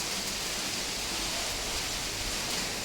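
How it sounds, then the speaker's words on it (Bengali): Heavy rain pours in a steady, unbroken hiss, close and fairly soft, with no voices over it. "এদিক দিয়ে খুব বৃষ্টি পড়তেছে"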